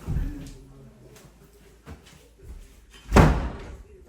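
A door is pushed shut with a single near, solid thud near the end, after soft handling noises and a faint voice.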